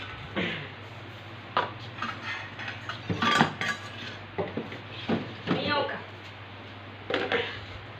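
Trays and glasses clink and clatter as they are taken out of a refrigerator being emptied for cleaning, in scattered short knocks and rattles at close range, with a person talking quietly at times.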